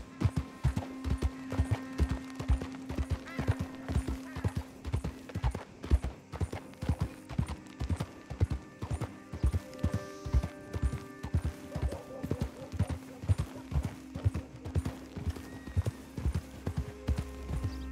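Horse hooves gallop in steady, even beats across open ground in the video game Red Dead Redemption 2, close and clear throughout, with a faint low rumble underneath and no talking.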